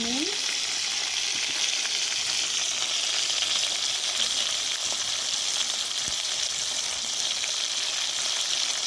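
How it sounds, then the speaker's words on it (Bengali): Cumin seeds, bay leaves, dried chillies, cinnamon, cardamom and cloves sizzle and crackle steadily in hot oil, a dense, even frying hiss that continues without pause and with no talking. "তেল গরম হয়ে গেছে দিয়ে দেবো জি সাদা জিরে তেজপাতা শুকনো লঙ্কা"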